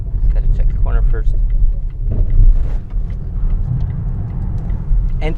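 Volvo C40 Recharge Ultimate AWD electric car driven hard through a corner, heard from inside as a loud low road rumble and tyre noise under a voice talking throughout.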